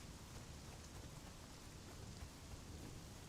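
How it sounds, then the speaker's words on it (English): Steady rain in the survival game Conan Exiles, a constant soft wash of drops at low level with no other sounds over it. "it's raining"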